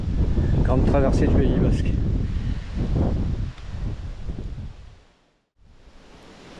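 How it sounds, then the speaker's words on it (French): Gusty wind buffets the microphone during an electric mountain bike ride on the Grande traversée du Pays Basque near Munhoa, a loud continuous roar with rushing gusts under a man's speech, dropping out briefly near the end before resuming. "Ouais, ça souffle, c'est rafaleux."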